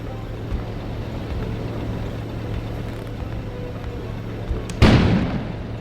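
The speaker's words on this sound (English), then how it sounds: "An explosion suddenly occurred outside." A sudden explosion booms out in a detective mystery video game, a sharp broadband blast near the end that decays over about a second above a steady low hum and ambient game noise.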